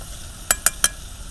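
Tomatoes and onions frying on a village clay stove (desi chula), with three quick stirring scrapes in close succession over a faint, low background sizzle.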